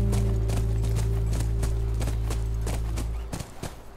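Steady clip-clop of horse hooves at an even trotting rhythm over a low constant drone in The Last of Us Remastered, then the drone cuts out and the hoofbeats thin to a few irregular knocks.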